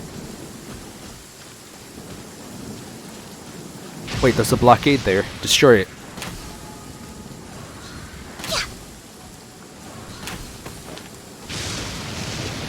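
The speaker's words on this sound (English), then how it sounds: "Ooh, even lightning strikes." In Genshin Impact, rain falls steadily while a crackling thunder and lightning strike bursts out in the middle, with a few fainter rumbles after it; a person talks over parts of it.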